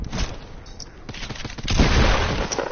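Gunfire in Fortnite Season 6 gameplay, a short burst of several muffled shots and booms at moderate loudness, without speech.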